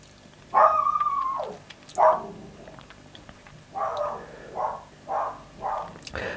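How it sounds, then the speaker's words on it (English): A dog barks in several bursts close by: a long first yelp, a second sharp bark, then a quick series of four shorter barks at an even rhythm, with quiet gaps between them. "That set the dog off"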